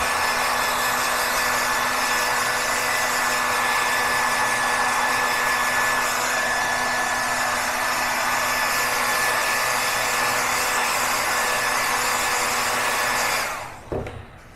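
A hair dryer on its cool setting blows air over a gelatin print, a steady loud whir running unbroken for about thirteen seconds before it switches off and winds down.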